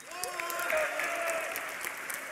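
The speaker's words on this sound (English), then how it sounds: "can we hit a cheer for Counter Logic Gaming EU?" An esports audience at a DreamHack League of Legends match claps and cheers, sustained dense applause from a large crowd that swells and holds steady throughout.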